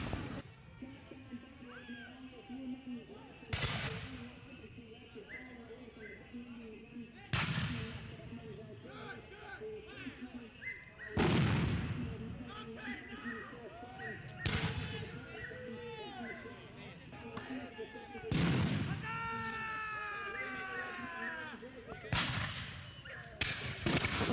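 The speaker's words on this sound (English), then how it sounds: "And right here is 4th Continental Artillery, Pickering's company." Artillery cannon fire at a Continental Army battle reenactment: six heavy booms spaced several seconds apart, moderately distant, over a steady outdoor crowd murmur with scattered shouts and calls between shots.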